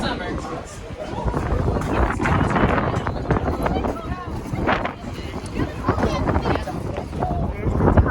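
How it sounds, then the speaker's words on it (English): Strong summer wind gusting across the summit of Mount Washington, a loud, steady buffeting roar with rumbling bursts against the microphone, heard under a person speaking. "It's really windy up here."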